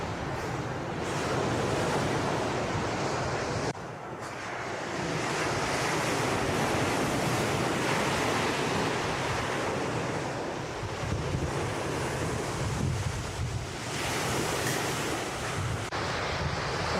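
Ocean surf rolls in steadily at Uluwatu beach in Bali, a continuous broad wash of breaking waves mixed with gusty wind buffeting the microphone, no voices present.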